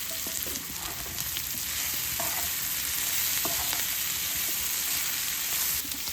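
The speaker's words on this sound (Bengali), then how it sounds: "এখন আমি এর মধ্যে প্রনগুলো দিয়ে দেবো।" Prawns fry in a pan with salt and pepper, giving a steady, dense sizzle that holds throughout, with a few faint utensil clicks over it.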